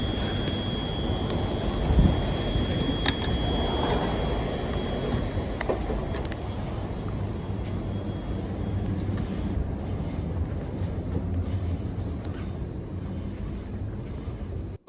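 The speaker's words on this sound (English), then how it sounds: "This train has got 8 carriages, nearly empty." A passenger train at a railway platform produces a steady loud rumble with some hissing and faint creaks. It sounds close and continuous throughout, with no talk.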